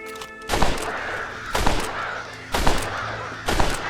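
Crows in the video game Red Dead Redemption give four loud, evenly spaced harsh caws about a second apart, each a sharp burst that trails off over a farmyard background.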